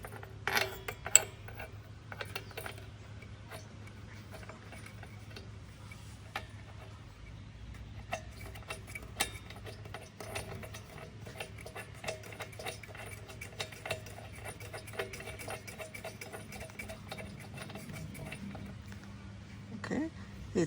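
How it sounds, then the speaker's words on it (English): A spark plug (RC12YC) being threaded and tightened by hand into a Dewalt gas lawn mower gives faint, scattered small clicks and light metallic ticks over a low steady hum, quiet and close. "Okay, now I'm going to go ahead and insert the spark plug."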